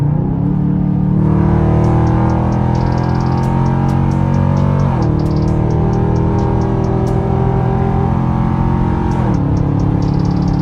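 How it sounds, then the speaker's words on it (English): A 2021 Dodge Durango RT with a straight pipe exhaust drones loudly and steadily from inside the cabin at night, its engine note stepping abruptly at two gear changes, with a faint high-pitched whine running above. "All right, downshift some more, downshift some more."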